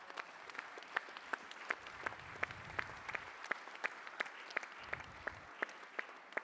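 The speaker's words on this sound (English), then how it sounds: "shall we give her a wonderful applause?" An audience at an education ministry conference applauds, a thin spread of claps with a few sharp, prominent ones standing out, moderately quiet and steady, with faint low rumbles beneath and no speech.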